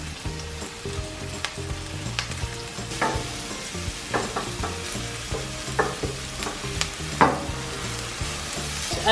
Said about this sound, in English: add some oil and then add some onion and the spring onions